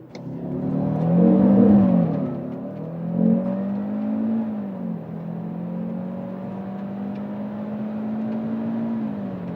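A Cupra Formentor VZ5 on a closed track, its engine revving hard as the car accelerates, a rising surge early on then a sustained strained drone through the gears, close and loud with no talking.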